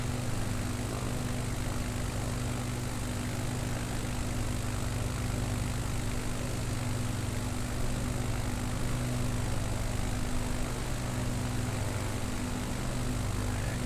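Steady propeller aircraft engine drone in Microsoft Flight Simulator 2020 on a Nevada bush flight, throttled back to a lower setting, a continuous even hum with no talk over it.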